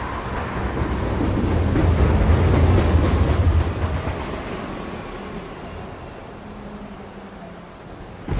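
A subway train rumbles in the noir detective video game Face Noir at night, a loud, broad roar that swells over several seconds with faint wheel clatter, then slowly recedes.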